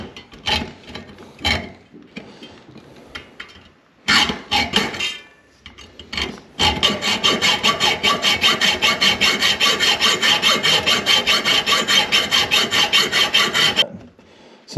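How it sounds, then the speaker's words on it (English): Bolts on Boonedox Groovy landing gear for an NRS Kuda 126 kayak are cut off with a steady, rapid rasping saw stroke that runs close and loud for about seven seconds, after a few short scraping bursts. "So I'm going to cut the bolts off."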